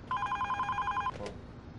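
A telephone rings with a clear pulsing electronic tone for about a second and then cuts off, heard fairly quietly in an indoor setting against a soft background hum.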